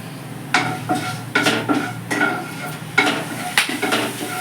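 Whole cardamom, cinnamon and cloves sizzle in hot oil with dried red chillies for chana dal, a steady close fry under repeated scraping stirs and clinks of a spoon against the pan.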